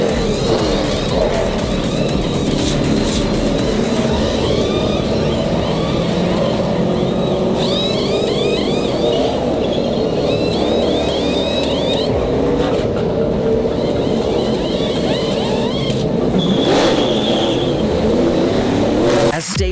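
A NASCAR pit crew services a race car during a stop at Darlington, a continuous loud wash of engine roar and mechanical noise with whirring tool bursts and chirps layered on top, voices talking underneath.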